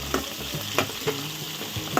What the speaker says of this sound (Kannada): ಈರುಳ್ಳಿ ಗೋಲ್ಡನ್ ಕಲರ್ ಆಗಿ ಅದು ಚೆನ್ನಾಗಿ ಫ್ರೈ ಆಗಬೇಕು